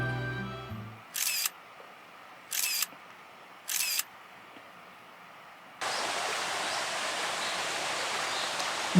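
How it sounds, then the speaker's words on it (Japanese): A steady, full rush of flowing water comes in partway through at a nature inn in Nasu, after a few short, sharp clicks over a quiet, still background; no birdsong stands out. "水の音、鳥の声、 本当に自然の中の宿やね。"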